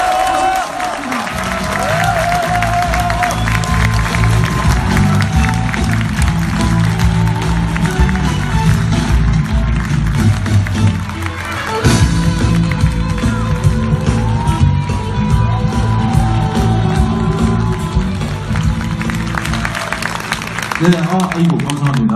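A crowd in a Daejeon lecture hall bursts into loud applause, cheering and shouting as a city mayor is welcomed to the stage. The sustained roar continues with a short dip midway.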